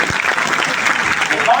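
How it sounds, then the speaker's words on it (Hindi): Applause from an audience at a Hindi poetry gathering, a kavi sammelan, at DTU; a brief burst of dense clapping from the crowd, loud and close. "एक बार तालियां बजाते मैं"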